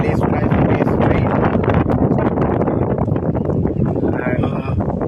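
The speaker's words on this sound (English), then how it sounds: "guys, I think it's too windy over here." Strong wind buffets the microphone at an outdoor cricket ground during a live 20-over match, a loud, steady roar lasting the whole stretch, with commentators' voices mixed in.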